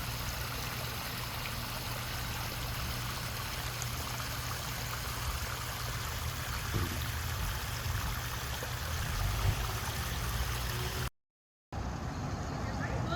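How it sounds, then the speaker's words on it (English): Continuous trickling and splashing of water from a small fountain in downtown Morganton, North Carolina, steady and close, with faint traffic rumble underneath. "Really cool little water feature they have here."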